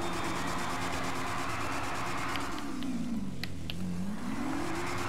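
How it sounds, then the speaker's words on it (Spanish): A car in a GTA V online race drifts, its tires skidding with a sustained rubbing screech over a steady engine whine that bends down and back up in pitch. "Derrape."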